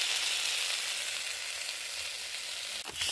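Masoor lentils sizzle steadily in a hot pan, a dense continuous frying hiss with a brief stir or clatter near the end, close and alone without talk.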